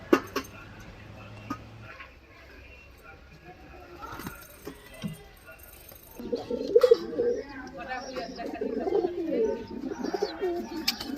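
Pigeons coo repeatedly at a market stall selling crested green-headed pigeons, the soft calls becoming louder and more continuous in the second half, with people talking over them and some background bustle.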